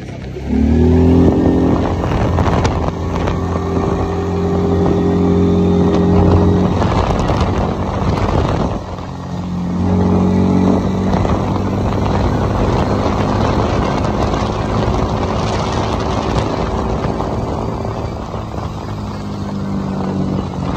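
A Chinese 500cc quad bike starts and is ridden, its engine giving a loud buzzing drone that rises and falls through several revving surges over about twenty seconds, with wind noise.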